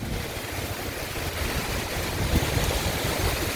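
Strong wind gusts roar and buffet the microphone in a steady, loud rush during a severe thunderstorm in Virginia Beach, Virginia, with rain coming down in sheets and a sharper gust surging near the end.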